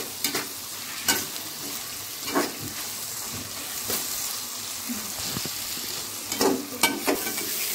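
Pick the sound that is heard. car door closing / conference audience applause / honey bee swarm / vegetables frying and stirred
vegetables frying and stirred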